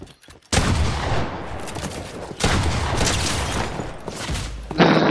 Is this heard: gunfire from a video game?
yes